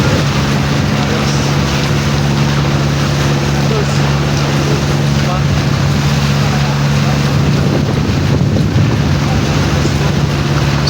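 A speedboat runs fast across the water at Dinadiawan, Aurora, its motor droning in a steady low hum under heavy wind buffeting and splashing, loud and constant.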